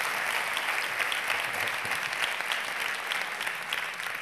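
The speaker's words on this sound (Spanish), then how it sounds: "Mira, aplausos." An audience at a technology event breaks into sustained, dense applause, steady clapping from many hands filling the room evenly with no clear pauses.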